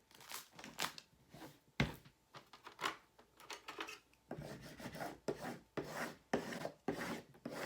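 Transfer tape being rubbed down onto a Cricut vinyl farmhouse laundry room sign, giving repeated close rasping, scraping strokes in an uneven rhythm with no talking.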